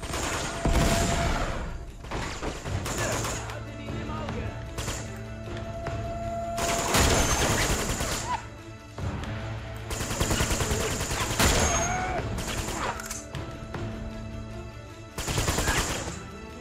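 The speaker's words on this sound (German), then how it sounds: "Extrem synchron schießen." Video game gunfire in Uncharted 2, repeated loud bursts of shots spread across the whole stretch, close and sharp, with game music and ambience underneath and little talk.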